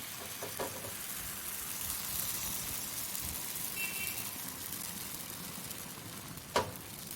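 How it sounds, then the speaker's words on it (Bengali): Mango patisapta batter sizzles in a pan brushed with ghee, a steady soft hiss that runs throughout, with a couple of light utensil taps and one sharp click near the end. "আবার প্যানের মধ্যে ঘিয়ার তেল ব্রাশ করে দিচ্ছি আবার এক হাতা ব্যাটার দিয়ে দিলাম"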